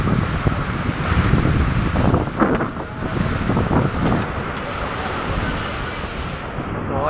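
Strong wind buffets the microphone along a seaside boulevard, a steady loud roar with surf and waves rumbling underneath throughout.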